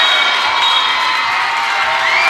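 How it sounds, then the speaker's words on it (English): A high school basketball crowd roars steadily on its feet in a gym, a dense, loud wall of cheering and shouting with no break. "This crowd is on their feet."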